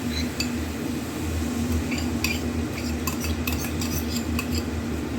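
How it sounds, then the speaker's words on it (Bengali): A utensil scrapes and clinks against a pan as a sauce mixture is poured in and stirred into chilli chicken, with a steady low kitchen hum underneath and scattered bright metallic ticks. "এবার যে সসের মিশ্রণটা রেডি করেছি, এটা এবার ঢেলে দেবো।"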